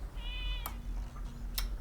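A single cat meows clearly and briefly near the start, a short tonal call, followed by a couple of sharp clicks in an otherwise quiet room.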